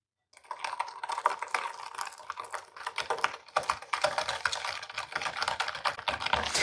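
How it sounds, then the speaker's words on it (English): Eggs are whisked hard in a bowl for homemade eggnog while hot milk is ladled in, giving a rapid, continuous clatter of whisk against the bowl that stays fairly loud and steady, with no talking. "whisk vigorously because you do not wanna be scrambling these eggs"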